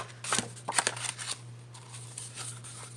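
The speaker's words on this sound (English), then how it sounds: "this is Tim Holtz cardstock, cut it down to my size" Tim Holtz cardstock is trimmed to size, giving a few crisp, close paper-cutting snips and crackles in quick bursts, then softer rustling at a quiet crafting table.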